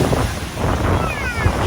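Ocean waves breaking at Patar Beach in Bolinao, Philippines, form a steady, loud wash of surf. Gusty wind buffets the microphone close by throughout.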